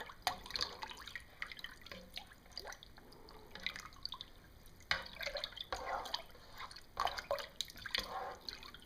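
Water poured out of a cooking pot, faint splashing and irregular drips at close range, coming in short uneven bursts with quiet gaps between.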